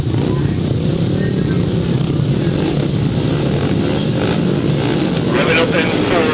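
Speedway motorcycles revving together on the start line before a heat at Prospect, a loud continuous roar of engines, steady and close, with no clear talk over it.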